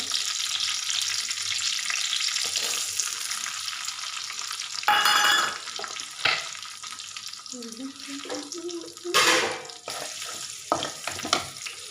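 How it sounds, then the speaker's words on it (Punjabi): Cumin seeds and onion frying in a pan for rice, a steady sizzle with occasional stirring scrapes and clinks, plus a brief faint tonal squeak partway through. "ਪਾ ਦਾਂਗੇ ਇਹਦੇ ਵਿੱਚ ਜੀਰਾ ਨਾਲ ਹੀ ਪਾ ਦਾਂਗੇ ਜੀ ਪਿਆਜ਼"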